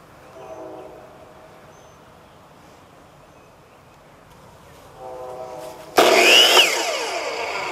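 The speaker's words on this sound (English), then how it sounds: "I don't know how loud this saw is going to be" A power saw fitted with a laser guide starts abruptly and cuts wood while building a chicken tractor, a loud, harsh whine rising over a quieter background hum and continuing to the end.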